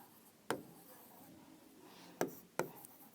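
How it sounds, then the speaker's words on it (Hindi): Chalk or marker tapping and scraping on a board as a chemistry definition is written: three sharp close strokes spread across a quiet room, with no voices. "तो मोलर मास का डेफिनेशन लिखते हैं"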